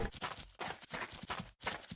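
Horse hooves walking in the video game Kingdoms, a steady uneven clip-clop of several quiet, soft thuds repeating in a loose walking rhythm.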